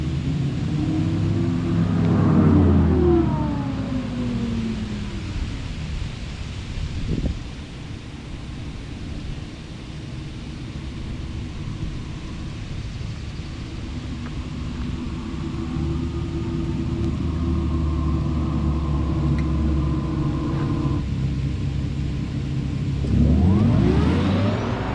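A 2023 Audi E-Tron GT fully electric car gives off a steady synthetic whir and hum, rising and falling in pitch as it moves, with a low rumbling drone beneath and sweeping tones at the start and end.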